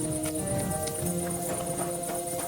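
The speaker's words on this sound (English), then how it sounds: "Whose horse is that?" Steady clip-clop of horse hooves at a walking pace, moderately close, over a constant tonal background hum with no talking, in the video game Kingdom Come: Deliverance II.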